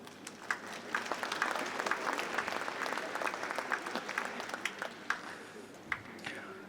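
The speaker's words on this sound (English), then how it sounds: "Let's give him a round of applause." An audience at a lecture on guided implant surgery gives a speaker a round of applause. The clapping is soft and steady, with a few sharper claps standing out, and it stays fairly distant the whole time.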